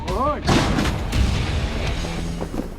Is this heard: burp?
no